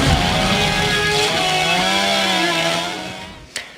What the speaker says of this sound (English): He made this video where he takes a chainsaw to the tax code